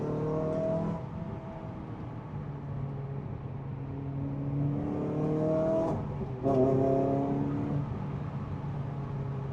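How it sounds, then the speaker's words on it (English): A Renault Clio 200 engine revs up and down during heel-and-toe downshifts from fourth to third, with sharp blips and rising and falling engine pitch over a steady in-cabin drone, close and clear with no talking. "Try to get some heel and toe going. I'm going to do 4th to 3rd."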